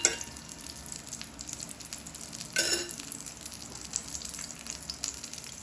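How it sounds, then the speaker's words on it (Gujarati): Potato patties made with jowar shallow-fry in oil, crackling and sizzling steadily at close range, with a brief louder spatter midway and small pops scattered throughout. "ટિક્કી તળાય છે"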